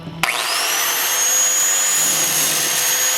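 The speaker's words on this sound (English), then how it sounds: "I was able to get the bolt out after a lot of grinding" An angle grinder cutting off a seized sway bar link bolt on a Toyota or Lexus, spinning up abruptly into a loud, steady, high-pitched whine and grind that holds unbroken throughout.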